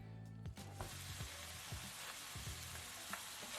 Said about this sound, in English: Alright, our oil is hot. So this time we'll start with our minced meat.